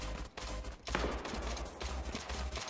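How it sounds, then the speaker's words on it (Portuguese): Gunfire in the video game Knives Out comes as a burst of rapid shots and thuds over dense game sound, fairly loud and continuous for a few seconds. "Opa, tiro."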